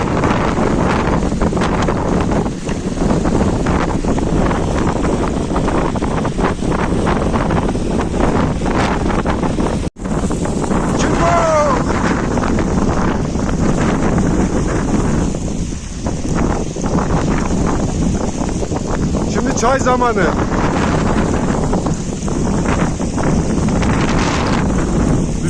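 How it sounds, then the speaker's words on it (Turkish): Strong gusty wind buffets a phone microphone with constant roaring noise beside a lake, while a brief voice speaks partway through. "rüzgar telefonu atacak ha. Elimde zor tutuyor."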